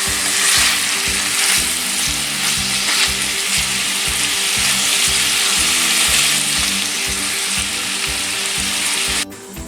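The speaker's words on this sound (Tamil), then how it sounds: "ஆனால் சிக்கன் தீயாத மாதிரி கவனமாக டேர்ன் பண்ணணும்" Chicken pieces fry in hot oil in a pan for a Tamil-style chicken fry, with a dense, steady sizzle and repeated scraping as a utensil stirs and turns them.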